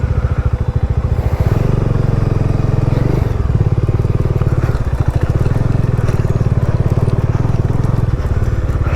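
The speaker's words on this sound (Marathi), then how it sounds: "रस्त्यामधून आम्ही बाईक टाकतोय." Motorcycle ridden slowly over a rough road in the Ekole valley, its engine a loud, close, steady rapid thumping that rattles on for several seconds.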